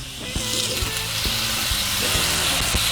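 Pineapple rings searing on a hot pan over medium-high heat give a steady, loud, close sizzle, with soft taps as pieces are laid down.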